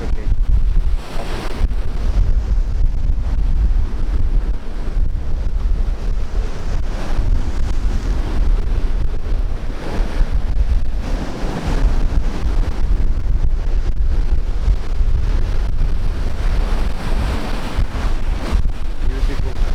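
Sea waves washing ashore on the coastline south of Suay, Thailand, with heavy wind buffeting the microphone, a loud, continuous roar and rumble that swells and eases over the whole stretch.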